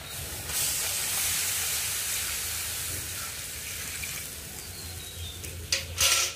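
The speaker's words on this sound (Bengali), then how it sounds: "এবার আমি এর মধ্যে পরিমাণ মতন জল দিয়ে দেবো।" Water poured into a pan of fried potatoes and spices for aloo dum, a steady loud hiss and steam sizzle throughout, with a couple of sharper splashy bursts near the end.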